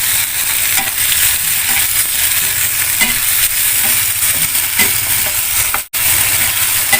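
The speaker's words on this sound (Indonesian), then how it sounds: "Kita aduk lagi ya guys" Jengkol seasoned with salt and bouillon powder is stirred in a frying pan, giving a steady loud sizzle with scraping stirring strokes throughout and a brief dropout near the end.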